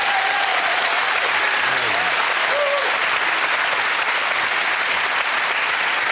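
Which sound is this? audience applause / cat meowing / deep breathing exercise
audience applause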